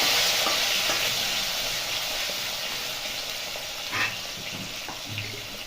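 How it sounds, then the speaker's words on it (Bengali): Potato pieces frying in a pan over caramelized sugar for an egg and cauliflower curry, with a continuous close sizzle, a few stirring clinks and one brief louder scrape, no talk. "আলুটা আমি ভাজা ভাজা করে নেবো"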